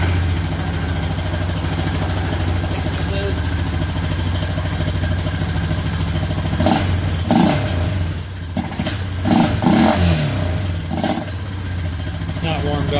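A 2016 Honda Rancher ATV engine, cold and running with its airbox lid off, idles steadily up close, then blips through several sharp revs in quick succession.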